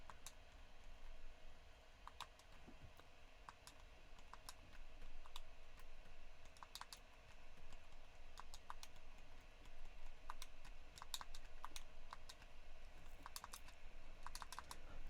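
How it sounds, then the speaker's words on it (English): Buttons on a Nintendo game controller clicking during a game of Tetris: quiet, rapid, irregular plastic clicks scattered over a steady low room hiss. "I'm sure all you can hear is my controller clicking along without any of this music here."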